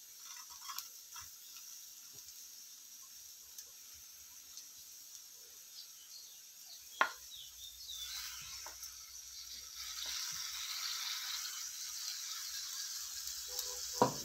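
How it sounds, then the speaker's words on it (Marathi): A ground curry-leaf mixture sizzles softly with onions in a pan, a faint hiss that swells louder toward the end, broken by a few clicks and scrapes. "आता ह्याच कांद्याच्या मध्ये आपल्याला मिक्सरमध्ये केलेलं हे मिश्रण टाकून"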